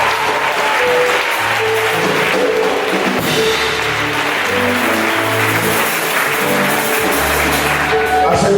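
A church congregation at a Sunday service claps loudly and continuously, a dense rhythmic applause that fills the space, with music or voices faintly underneath.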